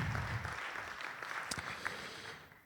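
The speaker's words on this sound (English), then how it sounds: "So let's give them a round of applause." An audience at a university athletics senior recognition ceremony gives a short round of applause for event staff and parents. The clapping is soft and somewhat distant, an even patter of many hands, with no one speaking.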